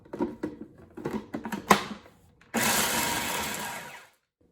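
A kitchen blender pulses herbs with lemon juice and extra virgin olive oil: a few short whirring bursts, then one steady loud blending run of about a second and a half that cuts off sharply, with no voices.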